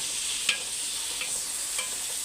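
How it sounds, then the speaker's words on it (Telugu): Vegetables for masala veg pasta fry in a pan with a soft, steady sizzle, broken by a few faint clicks of stirring. "వెజిటేబుల్స్ అంతా బాగా ఫ్రై అయ్యాయండి"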